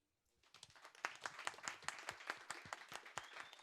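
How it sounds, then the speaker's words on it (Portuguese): Applause breaks out for Preston Pysh at a satellite event panel, rising quickly from quiet into brisk, rhythmic clapping from a modest crowd, with individual claps clearly distinct and fairly close. "Uma salva de palmas para Preston Pitt, pessoal."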